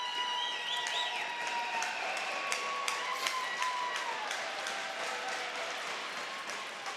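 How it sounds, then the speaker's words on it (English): Crowd ovation and applause at a college men's hockey game in an arena, a steady wash of clapping and cheering with scattered sharp taps and thuds, sustained at even loudness throughout. "an opportunity here as you hear the ovation from the crowd as Gage Ducharme will come into the game."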